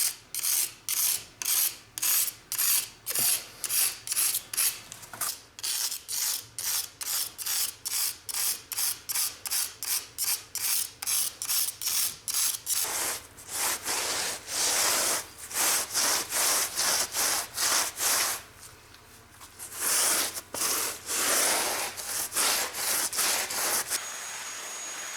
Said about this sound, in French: Je prends un couteau pour gratter